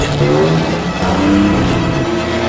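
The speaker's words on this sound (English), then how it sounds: "The BMW 530 MLE. A legend on the road, unbeaten on the track." A BMW 530 MLE racing car engine drones loud and close, with a sustained throaty roar whose pitch rises and shifts as it revs.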